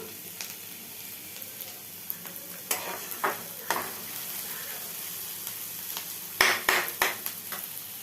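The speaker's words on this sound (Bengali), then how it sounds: "পেঁয়াজটা ভাজা ভাজা হয়ে গেল।" Chopped onion sizzles in hot oil in a pan while a spatula stirs and scrapes, giving a close, steady frying hiss broken by several sharp clanks and scrapes.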